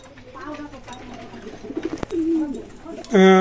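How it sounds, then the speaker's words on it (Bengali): Red teddy pigeons of a pure bloodline cooing softly at close range, a few low warbling coos rising and falling, followed by a sudden louder burst of another sound at the end. "এটা হচ্ছে ডাইরেক্ট র ব্লাড লাইনের কবুতর, জয়েন্স রেড টেডি"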